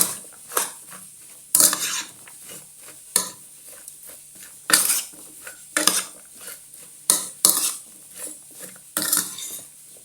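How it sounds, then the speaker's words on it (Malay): A spoon clinks and scrapes against a bowl in a steady stirring rhythm while mixing an apple cider dressing, with sharp taps every second or so and no talking. "Kita adukkan merata, okay."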